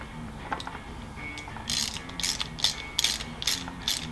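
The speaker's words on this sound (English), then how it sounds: "So let's just put my ratchet on real fast," A ratchet tightens fog light bolts on a Triumph Scrambler 1200XE, quick bursts of close metallic clicking, sparse at first and then in steady repeated runs.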